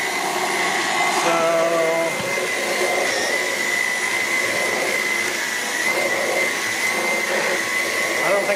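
A Dyson V11 Animal cordless vacuum runs with an attachment fitted, a steady high-pitched whine and airy rush that holds throughout, with brief shifts in tone as it moves over a surface.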